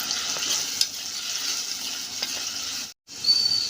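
A broad bean and tomato curry sizzles steadily in a pan while being stirred, with a few soft scraping knocks from the spoon and a brief break before the frying hiss returns, no talking.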